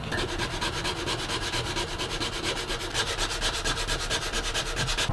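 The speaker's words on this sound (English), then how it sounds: "A little bit of sanding to clean it up" Sandpaper rubs back and forth over a wooden log in steady, rapid strokes, a close and continuous scratchy rasp with no pauses.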